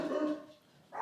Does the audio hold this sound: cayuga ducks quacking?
no